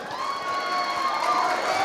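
A crowd at a college dance competition cheers and shouts in a steady, sustained roar for a couple of seconds, with high voices whooping throughout.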